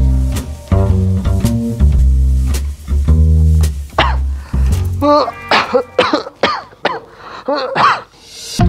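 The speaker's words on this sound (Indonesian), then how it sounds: "Batuk lu nggak kelar-kelar nih, bro." Someone with a sore throat coughing and clearing their throat, first a series of deep rhythmic throat-clearing rasps, then several sharp loud coughs, close to the microphone.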